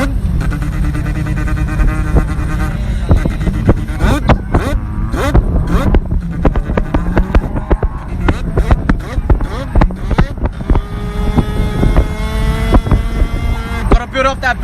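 A human voice imitates a 13B turbo rotary engine on a two-step launch limiter, with loud, continuous buzzing and popping bursts and rising revs, close up.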